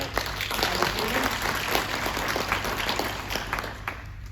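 An audience at a Leyland National bus presentation at Busfest, British Motor Museum, Gaydon, applauds steadily for several seconds, a dense wash of clapping with no voices standing out.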